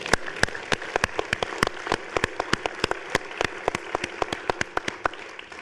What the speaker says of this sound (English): they need a round of applause after that